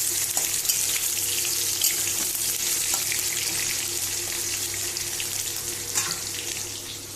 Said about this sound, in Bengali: এদিকে আমি আবার আলুটা বসিয়ে গেছি, নাড়িয়ে দিই।